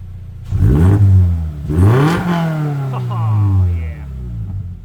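A 2023 Toyota GR86 fitted with a Borla S-Type exhaust rumbles nearby with deep low engine tones that swell and settle in short blips, loud and close.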